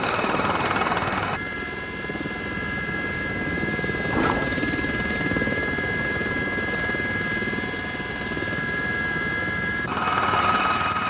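A trainee army helicopter hovers near the ground in a steady, loud rotor and turbine drone while attempting a landing during flight training, with a brief whine shift partway through and no voices.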